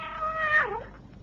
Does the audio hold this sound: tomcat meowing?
yes